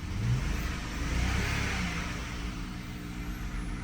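A BMW E90 engine with a post-swap camshaft sensor synchronization fault revving, a sustained mid-pitched engine roar that rises briefly then holds steady, heard up close without talk.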